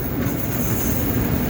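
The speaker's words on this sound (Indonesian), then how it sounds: "Bapak kereta 8 gerbong." Steady rumbling roar of an eight-car train rolling past nearby, with a continuous rushing, rattling texture.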